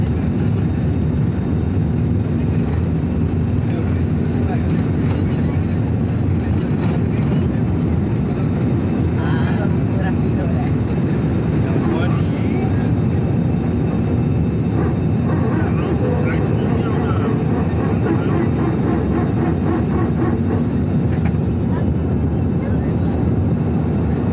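Airliner taking off on a flight from Odisha to Maharashtra, heard from inside the cabin as a steady, loud low engine roar and rumble that fills the whole stretch, with faint talk mixed in.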